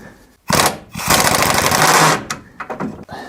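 A hammer drives a socket onto a rusted engine mount bolt, giving loud, dense metallic striking in two bursts, a long sustained run then a few shorter knocks, close and with no talk.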